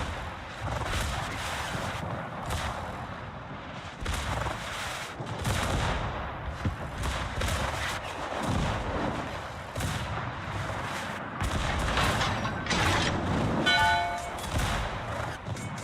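Naval guns firing armor-piercing shells in the World of Warships video game, a dense barrage of booming salvos and rumbling impacts rolling on loud and continuous, with some brief sharper metallic ringing near the end.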